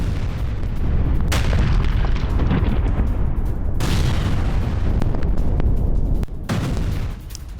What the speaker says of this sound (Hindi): यूक्रेनी फोर्स पर जबरदस्त बमबारी की गई